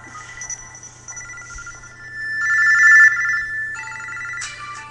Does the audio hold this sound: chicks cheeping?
no